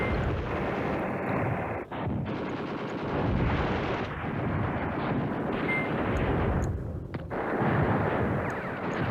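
Artillery barrage in the WWII strategy game Command Ops 2: Highway to the Reich, with continuous loud booming and crackling fire, short dips between volleys, and no talking.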